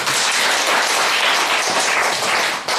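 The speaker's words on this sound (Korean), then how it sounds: "우리 이분께도 큰 박수를 한번 좀 보내주십시오." An audience at a Korean taekwondo international agreement signing ceremony applauds in a dense, steady wash of clapping that stays loud and even for nearly three seconds, then dips briefly at the end.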